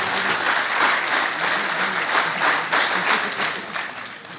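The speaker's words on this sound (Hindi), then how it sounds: "जोरदार तालियों" Audience applause at a closing ceremony for a national road safety month, a steady burst of many people clapping together, full and close, tapering slightly at the end.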